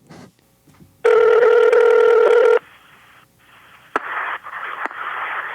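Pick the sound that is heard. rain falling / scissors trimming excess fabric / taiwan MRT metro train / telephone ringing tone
telephone ringing tone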